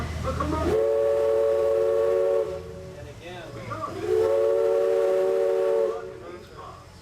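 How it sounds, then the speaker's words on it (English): Two long, loud steam whistle blasts from the Mark Twain Riverboat, each lasting about two seconds with a brief pause between, and a voice speaking faintly at the end. "Stand by for whistles"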